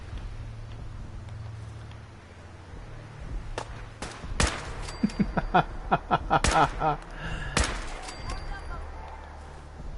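Explosions and gunfire in the video game Fallout 4: a quiet rumble followed by a rapid series of sharp, loud blasts and bangs clustered in the middle and latter part, with scattered impacts after.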